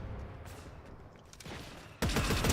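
Scattered gunshots crackle at a distance in Fortnite before a loud, rapid burst of gunfire erupts near the end.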